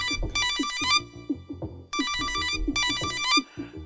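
A telephone rings in repeated bright electronic bursts, three rings with pauses between them, heard clearly in a quiet room over a low underlying tone.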